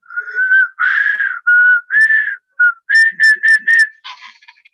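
A series of bright whistled phrases imitating a caged nightingale's song, rising and trilling in short bursts with brief pauses, clear and close.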